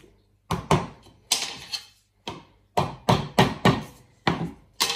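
Sharp hammer blows strike in irregular bursts while fitting an aquarium mesh lid, single and double hits with short pauses between, loud and close with no talking.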